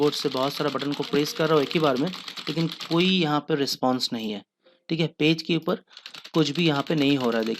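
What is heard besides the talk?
many computer keyboard buttons pressed at once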